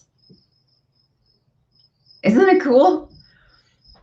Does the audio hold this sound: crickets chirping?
yes